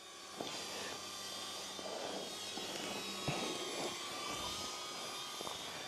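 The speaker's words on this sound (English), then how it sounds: "Let's see if that drone will follow me up here." A drone hovers overhead with a steady, high buzzing whine above forest roads ridden on a Kawasaki KLX230S, fairly faint and continuous against a constant background of wind and engine noise.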